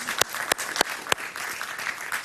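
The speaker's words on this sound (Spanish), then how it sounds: "Un aplauso para él, por favor." Studio audience applauding on a Spanish-language talk show, a steady wash of clapping with a few sharp, louder claps standing out, continuous across the short stretch with no talk over it.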